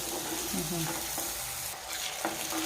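Onions and spices fry in a pan for a palak tomato curry, giving a continuous dense sizzle with a few stirring scrapes and brief clicks, close and moderately loud with no talking.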